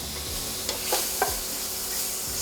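Sausages fry in olive oil in a pan over medium-high heat, giving a steady, close sizzle with a few brief clinks and stirring scrapes and no talking.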